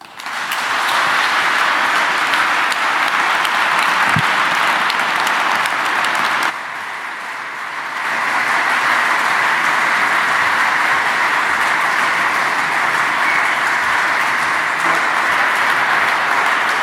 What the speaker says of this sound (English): Professor Zeynep Tufekci, that's your applause.